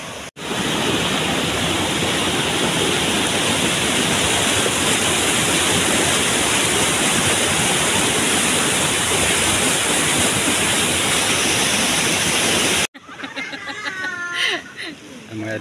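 San Ramon Falls, a waterfall with very clear water, roars as a loud, steady wash of rushing water close by for most of the stretch, then cuts off abruptly to quieter ambient sound with faint voices.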